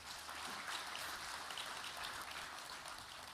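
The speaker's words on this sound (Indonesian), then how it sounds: "Boleh tepuk tangan yang meriah." A crowd at a village cooperative inauguration in Nganjuk gives a faint, distant, continuous patter of applause, sounding almost like steady rain, lasting the whole few seconds.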